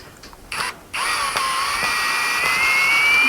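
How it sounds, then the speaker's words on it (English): A screw gun whirs as it backs a screw out of a car tire: a few short bursts, then a sustained close, loud whine that rises slowly in pitch, with no talk. "Yeah, we got a screw gun. All right, let's see if we can take this screw out."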